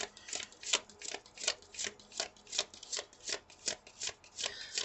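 Oracle cards shuffled by hand in a steady rhythm of crisp riffling bursts, about two per second, close and clear with no talking.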